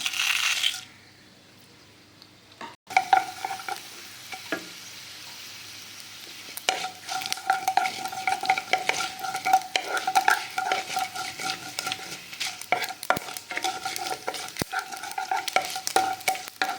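Dried chilies and mustard seeds fry in hot oil, crackling and popping irregularly over a soft sizzle, with occasional clinks of stirring nearby.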